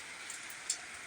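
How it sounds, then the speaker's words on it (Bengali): Monsoon rain on a tin shed roof, a steady, soft hiss of drops with one or two slightly sharper ticks, faint and even throughout. "যে পাশে টিন শেডে বৃষ্টি পড়তেছে, দেখেন শব্দ, ঝুমঝুম ঝুমঝুম ঝুমঝুম শব্দ হচ্ছে"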